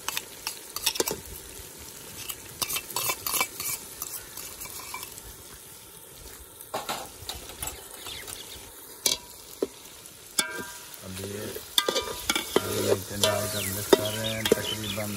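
Green chilies fry for matar pulao in a village kitchen, sizzling steadily in hot oil as a utensil scrapes and stirs the pan in repeated strokes, with someone speaking briefly in the background.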